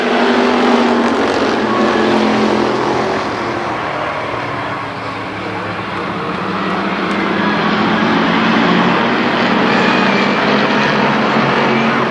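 Race cars lapping Columbus Motor Speedway, a dense continuous roar of several engines circling, swelling and fading slightly as the pack passes, loud and near.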